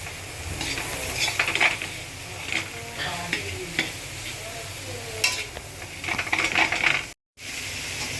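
Chicken mince stir-fries in a pan: a steady sizzle runs throughout while a spatula scrapes and clinks against the metal in irregular strokes, close by, broken by a brief dropout near the end.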